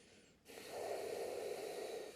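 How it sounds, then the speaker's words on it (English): Deep breathing while holding a yoga pose, a single long, close breath drawn through the nose with an audible airy rush, no talk. "A couple of breaths more."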